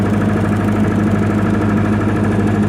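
A 1995 Libby MEP-803 10 kW diesel generator runs at a steady idle, close and loud. It holds an even, rumbling engine drone with a constant low hum throughout and no voices.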